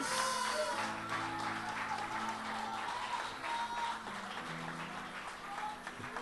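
A church congregation claps together in a sustained, fairly distant round of applause, steady with slight swells, while sustained organ or keyboard chords sound underneath.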